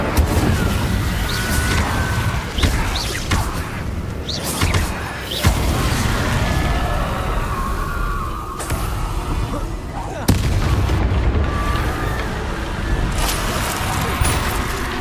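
Loud whooshing blasts and booming impacts of the Incendio fire spell amid combat in Hogwarts Legacy on PS5, repeated bursts over a dense, continuous battle din with game voices mixed in.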